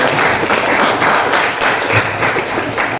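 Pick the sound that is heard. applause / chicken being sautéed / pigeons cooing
applause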